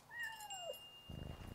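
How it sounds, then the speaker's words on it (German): A single cat in the video game Yonder: The Cloud Catcher Chronicles meows once, a drawn-out descending cry, quiet and clear, followed by a soft shuffling noise. "Ich höre da übrigens was miauen."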